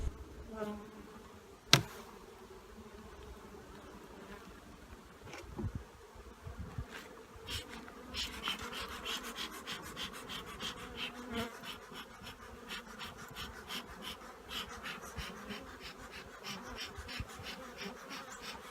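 Honeybees buzz steadily around an open, somewhat aggressive hive, a dense close drone of many insects that grows busier partway through, with a sharp knock early on and no voices.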